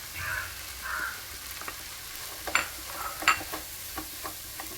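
Coriander, chili and turmeric powder fry in a pan with a soft continuous sizzle, while a spoon scrapes and stirs in a few sharp clicks and taps.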